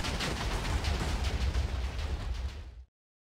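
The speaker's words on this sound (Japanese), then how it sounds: "ゆかり匠は爆発すると地面を真っ平" A creeper-like Takumi blows up in a Minecraft mod, a loud, rumbling video-game explosion that roars for nearly three seconds before cutting off abruptly into silence.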